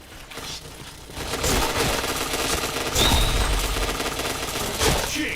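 Rapid, dense gunfire from a shooting video game, close and loud, with overlapping automatic bursts and single shots running continuously, and faint voices now and then.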